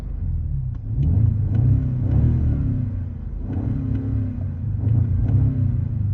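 A 2026 BMW M5 Touring G99 engine hums and rumbles steadily from inside the cabin, amplified through the speakers by a cabin sound synthesizer, swelling slightly as it revs, with no one speaking.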